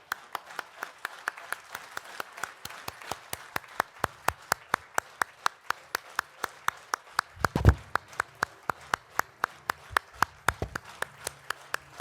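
At a municipal league summit, a standing audience claps in a steady, evenly spaced rhythm of sharp, distinct claps over a faint room murmur, with a single heavier thump partway through.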